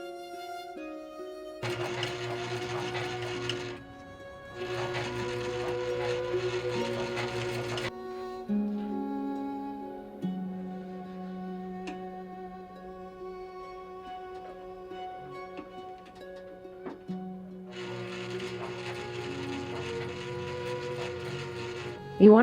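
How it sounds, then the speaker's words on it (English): A sewing machine stitches fabric right up against a bra's back closure in three bursts of rapid mechanical whirring, two early and one near the end, with a calm voice heard between them. "You want to make sure that you sew as close to the closure as you can get"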